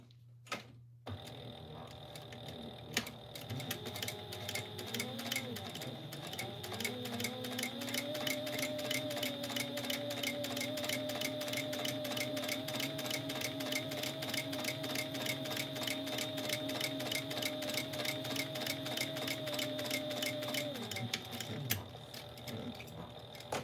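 A sewing machine stitches along a folded fabric edge in a long, steady run of rapid mechanical ticking, starting up, holding an even pace for about fifteen seconds, then slowing to a stop; close and clear with no talk.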